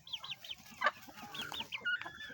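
Betong-type chickens cluck in quick, repeated short calls, fairly close, with a busy faint background of other birds and farmyard noise.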